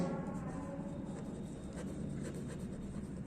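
Steady pen-on-paper writing during a school English lesson, a continuous faint scratching and rustle with no voices over it.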